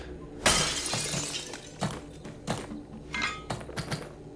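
Something smashed open in the video game Hello Neighbor 2: a sharp breaking crash followed by several thudding, clattering impacts spaced over a few seconds, close and moderately loud.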